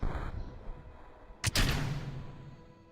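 The Poodle rocket engine in Kerbal Space Program roars to life with a sharp ignition burst, then a steady, fading rumble of thrust.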